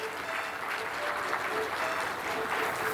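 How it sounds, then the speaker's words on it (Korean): Continuous audience applause for scholarship students at an award and scholarship certificate ceremony, an even, dense wash of clapping heard throughout at moderate level. "큰 박수 격려의 뜻으로 보내주십시오."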